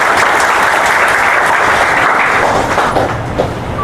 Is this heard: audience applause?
yes